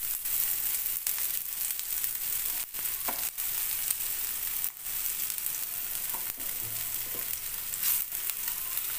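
Frankie rolls fry together on a large griddle pan, giving a steady, close sizzle and crackle that runs the whole time, with a few faint scrapes and knocks and no talking.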